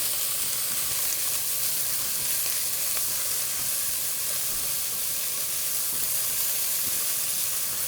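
Green peppers sizzle and hiss steadily in a hot pan while being stirred for a chickpea curry, a continuous close frying crackle with no talking.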